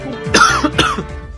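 A person gives a close, loud double cough, two harsh bursts a fraction of a second apart with a throaty catch, alone without speech.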